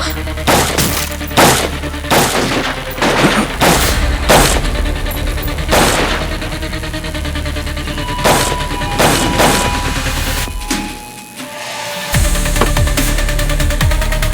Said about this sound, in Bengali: এই গুলি চলছে। আরে গুলি চলছে এখানে কেন?